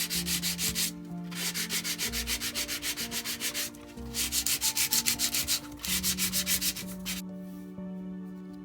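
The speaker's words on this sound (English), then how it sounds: "So here I'm just using a piece of rough grit sandpaper, and I sand down the cardboard." Rough grit sandpaper is rubbed hard over a cardboard roof piece from a wooden factory kit, in quick rhythmic back-and-forth strokes in several close, loud bursts with brief pauses between them.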